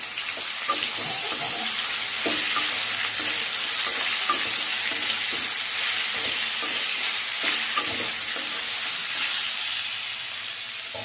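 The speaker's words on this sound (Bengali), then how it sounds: "যে লতিগুলোকে সিদ্ধ করে রেখেছিলাম সেগুলো আমি এখানে অ্যাড করে দেবো। এবারে আমি এগুলোকে ভালো করে নাড়াচাড়া করে দেবো।" Boiled taro stolons being stirred in a hot pan for a prawn curry, a steady frying sizzle broken by repeated scraping and clacking strokes of the spoon, close and continuous with no talk.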